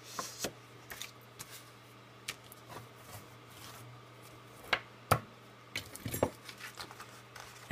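Paper being folded by hand for a concertina wallet: scattered soft crinkles, taps and brushing rustles close by, with a few sharper crisp creases near the end over a quiet hum.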